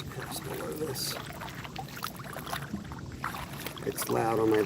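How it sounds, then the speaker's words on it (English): A boat runs at cruising speed, giving a constant loud rumble mixed with water rush and wind buffeting, while voices come through faintly at times. "It's loud on my boat. I'm running cruising speed."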